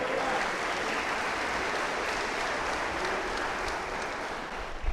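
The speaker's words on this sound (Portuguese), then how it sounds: "Aplaude o Senhor essa noite." Church congregation applauding during an evening sermon, a continuous, even roar of clapping from a large room, moderately loud and uninterrupted.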